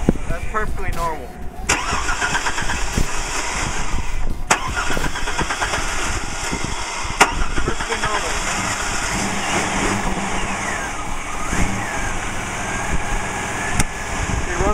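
A car engine cranks and catches, then settles into a steady idle heard up close throughout, with a few brief clicks and knocks over the running motor.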